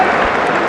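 A cricket crowd's steady applause fills this very brief moment, dense and even.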